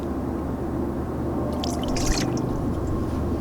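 Warm water is poured into a cup to start yeast for a deep-dish pizza, a soft splashing trickle rising briefly in the middle of a steady low background hum.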